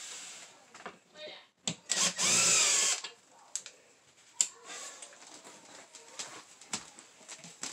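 Power drill driving roughly 1 1/4 to 1 1/2 inch screws into a wall to mount a gun rack, a loud whirring burst of about a second plus shorter spurts, amid clunks and handling noises.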